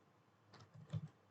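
A few soft keystrokes on a computer keyboard, faint and close, clustered in a quick burst of light clicks over quiet background hiss.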